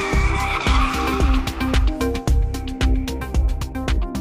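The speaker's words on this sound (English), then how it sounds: "A two-wheel drive runs the danger of losing its road adherence and can even break away." A two-wheel drive car skids on a slick winter road, with a steady, loud engine drone and tyre noise broken by sharp repeated clicks and thumps, no voices.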